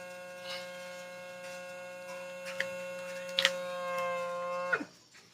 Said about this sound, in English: Okay, vacuum seal.